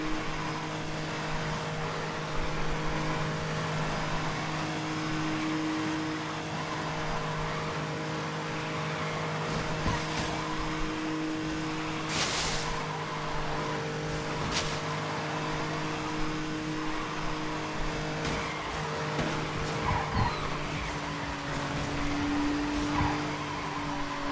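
A game car drifts with a steady engine drone, occasional revs and intermittent tire squeals rising over the hum, continuous and close throughout with no voices.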